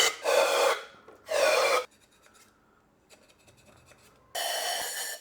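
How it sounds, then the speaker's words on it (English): A long brush scrubs brake cleaner through an engine's head bolt holes in three loud, raspy strokes, with a quiet pause between the second and third. "we'll use a long brush and brake cleaner to clean out the head bolt holes"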